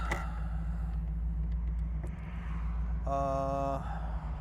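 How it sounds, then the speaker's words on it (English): A 1986 Chevrolet Camaro Z28 with T-tops out on a test drive, its engine giving a steady low rumble throughout, with a brief tonal chime or buzz near the end. "take it out on a test drive and see how it runs out"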